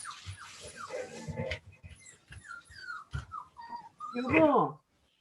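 A dog indoors gives whines and short yelps, with high whimpering bursts and a louder cluster of yips near the end, mixed in with people talking.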